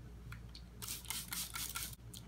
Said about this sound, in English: I'm just going to take my spray bottle right here and start grabbing those sections and spraying them down